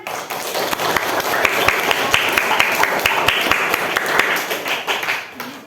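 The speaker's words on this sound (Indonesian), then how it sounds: "Tepuk tangan untuk Jihan." A classroom of students claps for a classmate, a dense patter of many hands with a few sharper, louder claps standing out, sustained for several seconds before tapering off.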